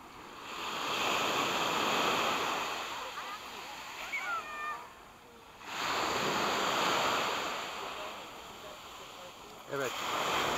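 Sea waves rolling onto Asprovalta beach in Greece, a steady broad wash of surf that swells and recedes in long surges, close and fairly loud, with some wind noise and brief faint voices.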